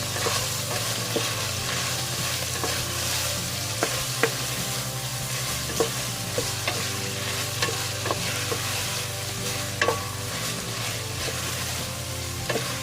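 Garlic stirred into pork frying in a pan for menudo, a steady close sizzle with scrapes and knocks of the utensil against the pan at irregular intervals.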